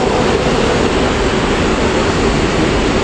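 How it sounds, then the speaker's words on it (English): Steady rumbling station ambience at the new Liège railway station, broadband and constant like a train idling or rolling nearby, with no voices. "This is a new railway station"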